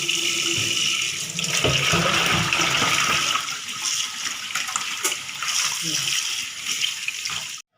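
Water poured from a container with live fish into another vessel while preparing a Bengali fish curry, a loud splashing rush of liquid that runs nearly the whole time and then stops abruptly.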